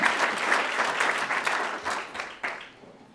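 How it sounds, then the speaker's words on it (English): A room full of people bursts into applause for a Chicago city treasurer's event, a brief burst of dense clapping that tapers off over about three seconds. "Let's give them a round of applause"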